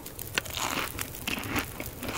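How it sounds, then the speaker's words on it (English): Salty crackers are bitten and crunched by a character in the survival game The Long Dark, giving a few close, crisp crunches over a steady background hiss, with no talking. "I think I will eat these salty crackers."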